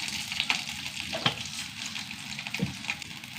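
Raw rice and fenugreek frying in coconut oil in a pan, a steady close crackling sizzle broken by a few light clicks and taps of stirring, with no voices over it.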